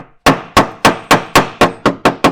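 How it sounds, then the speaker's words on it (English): Eight sharp metallic hammer taps ring out in a steady rhythm, close and loud, each strike decaying briefly before the next. "with a little hammer, tap them seams up there"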